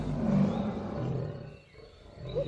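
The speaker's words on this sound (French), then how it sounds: "Ses rugissements ont résonné dans la jungle, un son de détresse qui a porté loin" Lion roaring in distress, a deep, rough, drawn-out growl that swells early, dips, and rises again briefly, close and fairly loud with no speech.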